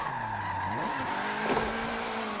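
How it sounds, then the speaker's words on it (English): A drift car's engine surges in Forza Motorsport 7 during a clutch kick in online drifting, with the tone dipping and rising sharply over a steady engine hum while tires and motor keep droning. "Clutch kick!"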